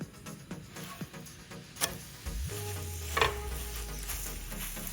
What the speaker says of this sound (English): It's a time to flip. It's a good time to brush some oil on this side.